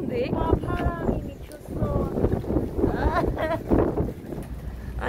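Cold outdoor wind buffets the microphone in low rumbling gusts while a person talks throughout over it.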